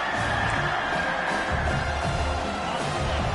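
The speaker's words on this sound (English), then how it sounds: "Decibels rising as the crowd gets behind this defense on third down" A college football stadium crowd roaring behind the defense on third down, a dense, steady wall of noise heard from a distance with no break.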